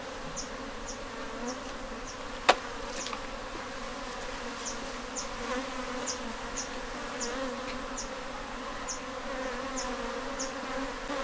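A honeybee swarm in Ghana hums steadily during a transfer into a new hive, a dense, continuous buzz nearby with one sharp tap partway through.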